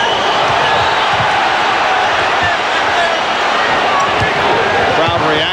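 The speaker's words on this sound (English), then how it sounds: "Crowd reacting as Ewing was battling for possession." A basketball arena crowd at a 1994 Bulls–Knicks playoff game roars steadily and loudly during a scramble for possession, with a commentator talking over the din.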